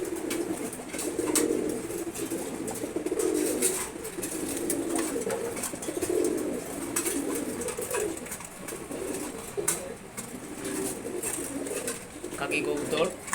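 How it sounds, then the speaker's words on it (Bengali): Kaki pigeons coo in low, repeated murmurs while eating their morning feed, a continuous soft burble close by. Light pecking and rustling sit underneath, and someone talks quietly now and then. "কাকি কবুতর খাবার খাইতেছে।"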